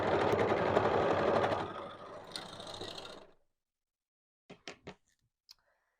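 Sewing machine stitching continuously around the foot piece of children's coveralls for about three seconds, then stopping. A few soft mechanical clicks follow in near silence.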